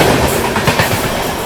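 The Tamil Nadu Express rushes past at close range, a loud roar with rhythmic clickety-clack of wheels over rail joints.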